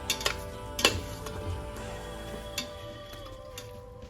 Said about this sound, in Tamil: ஸோ இந்த காய் வதங்கட்டும், ஒரு 3/4 பதத்துக்கு வதங்கட்டும்.